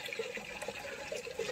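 Water is poured onto plants in a field, a faint soft splashing and trickling that runs steadily for a brief moment.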